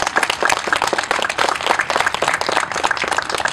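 An audience in Kansas City, Missouri gives steady, dense applause in honour of Anita Gorman, with many hands clapping close together at an even level throughout.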